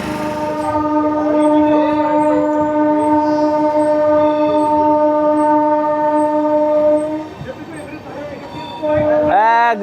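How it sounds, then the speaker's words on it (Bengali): Two Amrit Bharat Express trains pull out side by side from a crowded Indian station, a sustained loud horn tone holding for about seven seconds over rolling train noise, then a second horn blast near the end. "দুটো ট্রেন একসাথে বেরোচ্ছে, দেখে নাও।"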